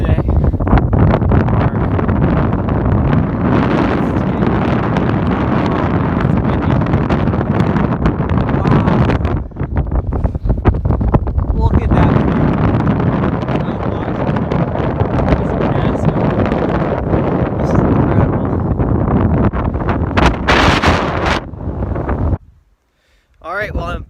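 Strong gusting wind roars across the summit of Mount Chocorua, loud and steady buffeting against the microphone for most of the stretch, briefly dropping out near the end.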